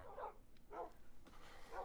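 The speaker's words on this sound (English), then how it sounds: "turn down these dogs, man." Dogs bark in a handful of short, spaced bursts, fairly faint and at a distance, with no one talking over them.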